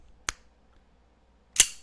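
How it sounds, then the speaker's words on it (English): Two sharp, snappy gunshot-like pops with a second-long gap between them, the second slightly louder, against near silence. "up front, I'm letting you know this is a BB gun."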